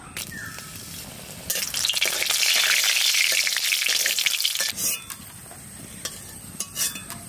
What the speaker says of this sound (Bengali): সরষের তেল দিয়ে দিলাম। এবার লঙ্কা কটা ভেজে তুলে নেব।